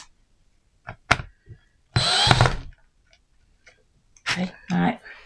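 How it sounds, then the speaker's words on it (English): A power drill spins up in one short, loud burst while a Halloween display is built from mudlarking finds, with scattered close human sounds and vocal noises before and after. "ignore my terrible drilling"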